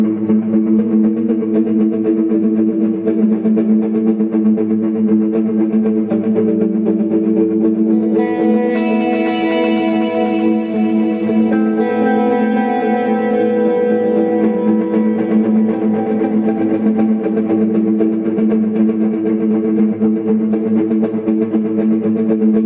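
An electric guitar runs through Eventide H9 effects synced to 120 bpm, producing a dense, continuous distorted tone with echo and reverb, with brighter played notes rising over the sustained wash midway through.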